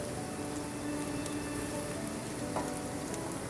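Plantain slices browning in oil in a frying pan, a steady soft sizzle and crackle with faint pops, close and even throughout with no talking.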